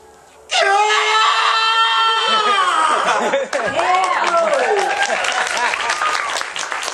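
Voice actors on a convention stage let out long, loud sustained screams that break into a chaotic tangle of overlapping shrieks and wails, with crowd noise and applause mixing in near the end.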